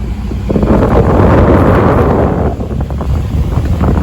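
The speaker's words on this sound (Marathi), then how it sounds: "वारा एकदम समसमीत लागत आहे" Wind rushing past during an open jeep ride, a loud, steady roaring buffet over the microphone that swells for a couple of seconds and then eases slightly, with no talk.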